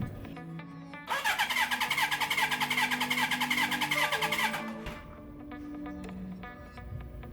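A Suzuki GS1000 motorcycle engine cranking on the starter during a compression test, a fast rhythmic chugging that runs for about three and a half seconds and then stops, heard close with quieter mechanical sounds before and after.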